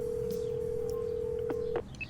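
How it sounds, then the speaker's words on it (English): A phone call being placed in a visual novel game: a single steady electronic tone holds for almost two seconds, then breaks into a few short, higher blips. "I find it on my phone and give her a call."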